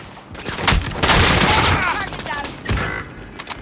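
Loud bursts of automatic gunfire and booming shots in the Call of Duty: Modern Warfare video game, several close, heavy volleys crackling in quick succession with a brief lull between them.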